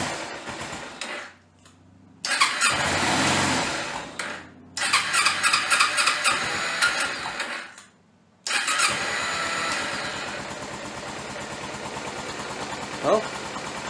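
A Kawasaki Ninja 250R motorcycle engine with dirty carburetors being started repeatedly on choke: several bursts of cranking and catching, each running a few seconds, separated by brief pauses, close and loud.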